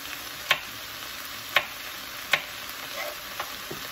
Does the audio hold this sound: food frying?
yes